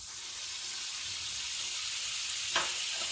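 Butter sizzles steadily in hot oil on a tawa for qeema, a loud continuous frying hiss with a brief sharper crackle near the end.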